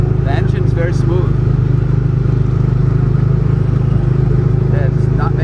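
A ride vehicle's engine at Magic Kingdom runs with a smooth, steady mid-pitched drone close by, unbroken throughout, while riders chat over it.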